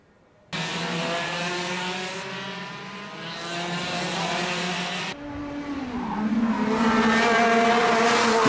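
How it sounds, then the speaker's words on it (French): Racing karts buzz past in a kart race, a dense high-pitched engine drone that starts abruptly and holds loud, with a shift in pitch midway as another group of karts passes close by. "Jules Monnier qui pousse son kart dans l'herbe."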